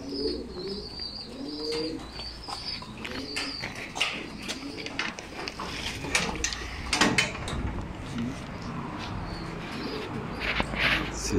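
Young pigeons in a loft coo in soft repeated phrases, with wing flutters and shuffling movement, close and fairly loud.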